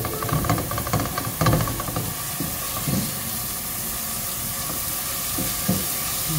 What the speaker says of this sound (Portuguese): Coloquei a panela, o óleo. E aí eu vou vir com um alho agora.